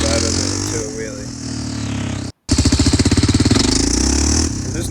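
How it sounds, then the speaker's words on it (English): A Raptor 660SE quad's engine revs hard as the throttle is dumped from low RPM without the clutch, lifting into a wheelie; a rough, loud pulsing roar with a brief cut partway, then rapid throbbing firing pulses. "I'm literally just dumping the throttle from low RPM with no clutch, and it just climbs out of it into a wheelie."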